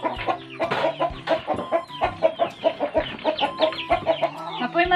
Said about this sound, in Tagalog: Daghan kayong manok.